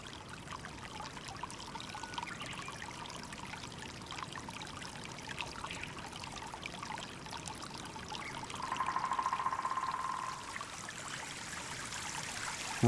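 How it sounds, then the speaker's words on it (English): Snowmelt stream running down a cascade in April, a continuous soft rushing and pouring of water heard from some distance, fairly quiet and unbroken throughout. "Snowmelt is running down a cascade"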